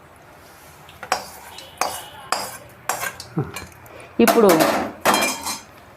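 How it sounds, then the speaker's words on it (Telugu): Hot tempering is tipped into a pan of atukula pulihora and stirred with metal tongs, giving a series of sharp metallic clanks and scrapes, close and loud, with a voice speaking briefly. "పటకతో పట్టుకొని ఈ పోపుని వేసేస్తాను"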